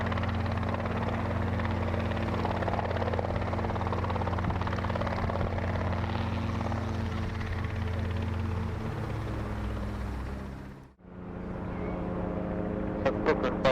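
A helicopter flies in to land at Brooklands during a fly-in event, its rotor and engine roaring steadily for over ten seconds, dipping briefly then resuming with chopping blade pulses.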